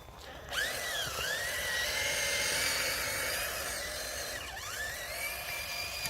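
A Traxxas TRX-4 RC truck fitted with tracks climbs, its electric motor whining steadily with a couple of quick rising and falling pitch swoops as the throttle changes, close by and alone.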